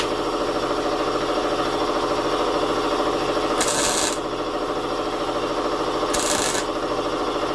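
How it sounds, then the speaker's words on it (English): Air compressor running steadily in a workshop, a loud continuous mechanical drone with two brief higher hissing bursts, with no talking. "I probably should be talking louder because the compressor's running."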